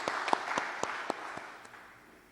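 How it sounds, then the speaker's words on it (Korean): Applause of thanks for a church assembly's vice-president at a church growth meeting: scattered, sparse claps that thin out and fade over about two seconds, with no voices. "박한규 우리 부총회장님께 감사의 박수 한번 드리겠습니다"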